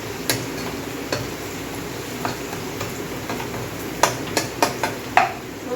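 Onion, garlic and chili frying in a pan for a dal tadka, a low steady sizzle broken by a few faint ticks and stirring clicks, heard alone without talk.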